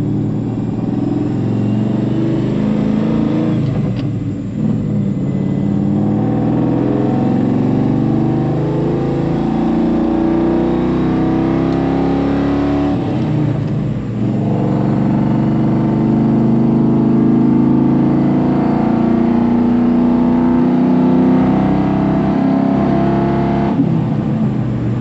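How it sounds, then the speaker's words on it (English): A Mustang project car cruising gently with a steady engine drone and a thin whine from under the hood, loud and close, running continuously with slight swells in revs. "there's something whining under the hood"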